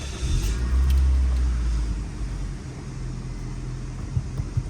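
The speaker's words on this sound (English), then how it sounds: "I'm gonna start the car now." A 2006 Scion xB starting up, a loud low engine rumble that swells over the first couple of seconds and then settles into a steady idle.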